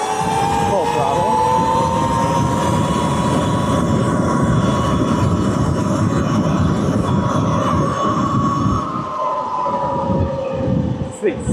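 A custom electric pit bike at full throttle on pavement gives a loud, rising motor whine that holds steady for several seconds with wind rush and rumble beneath, and a rider speaks over it.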